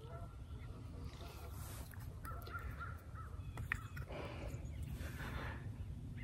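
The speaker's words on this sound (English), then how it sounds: "it's a goose and a crow." A crow caws a few times at a distance, with a goose also present, over a steady low outdoor rumble.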